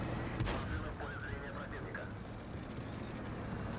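Tank gun fire in World of Tanks, a Kirovets-1 in battle, lands as one sharp boom near the start and then a fainter report, over a droning engine and game noise.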